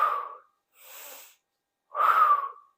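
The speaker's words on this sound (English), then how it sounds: "Breathing in and out." Breath during a stretching exercise, three airy breaths close to the mic with quiet gaps between them, the first and last strong exhales and a softer inhale in the middle, with no talking.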